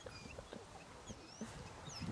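A dog gives a series of high, thin chirping whines, several short calls spread across a couple of seconds, fairly quiet and close, with no talking over them.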